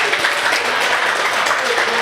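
Crowd applause at an Indonesian stand-up comedy show, a steady dense wash of clapping filling the whole stretch at moderate loudness with voices mixed in.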